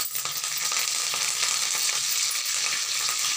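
Curry leaves and crushed garlic sizzle steadily in hot oil for onion chutney, a loud, continuous frying crackle close by with no one talking.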